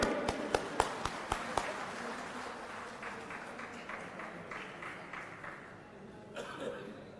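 Applause and cheering from a crowd at a political rally in Phillaur, Punjab, for Bhagwant Mann and Arvind Kejriwal. It opens with several sharp claps, then settles into a steady, moderately loud wash of clapping and crowd noise.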